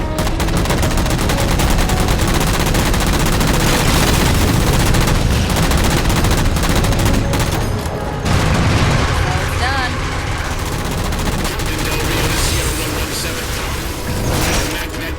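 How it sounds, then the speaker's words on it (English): Rapid, dense gunfire in the Halo 4 video game as jammers are shot down, a loud continuous barrage of automatic shots with mechanical clatter and booms, fading somewhat partway through. "the jammers, 3 of them. Shoot them down."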